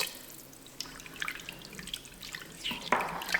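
Red wine poured into a pot of French onion soup made with red onions, bay leaf, thyme and sherry vinegar: a faint, uneven trickle and drip of liquid that grows louder toward the end, no talking.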